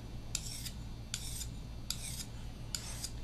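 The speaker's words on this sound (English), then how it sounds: "take the stone file and run the stone file along each of the 6 recessed areas like this" A stone file scrapes along the recessed areas of a Gregor Jonsson blade sharpener in four evenly spaced rasping strokes, crisp and close, with no other sound.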